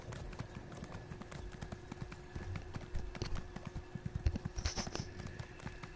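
Steady clip-clop of horse hooves trotting in the video game Elder Scrolls Online, a continuous rhythmic clatter with faint background ambience, slightly louder toward the end.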